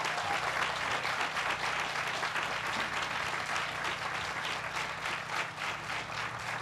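Steady, dense applause from a large crowd at a groundbreaking ceremony for the Salvation Army's Kroc Center in Chicago, holding at full strength throughout with no talk above it.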